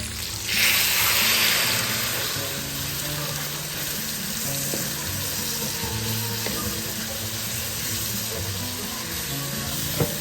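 Marinade paste of green chilli, coriander leaves, ginger and garlic hits a hot pan with chicken, bursting into a loud hiss that settles into steady, close frying sizzle, with no voices.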